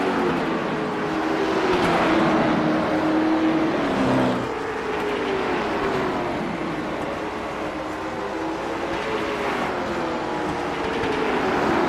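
Several race cars roar around a short oval track in the iRacing sim, engine notes rising and falling as they pass, a continuous loud drone with no talk.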